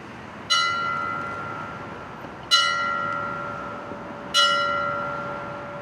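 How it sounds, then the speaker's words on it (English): A memorial bell at a September 11 remembrance ceremony strikes three times at slow, even intervals, each ring loud and clear with a long sustained tone decaying before the next stroke, and no talk over it. "the bell rings its final 3 times for them"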